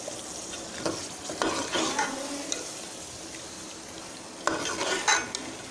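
Potatoes are stirred and fried in masala in a pan, with repeated scraping spoon strokes over a close, steady sizzle.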